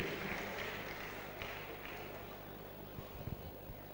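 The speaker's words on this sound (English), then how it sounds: "A round of applause for her, please." An audience claps at a World Youth Skills Day debate event, giving a steady wash of applause that slowly fades over a few seconds.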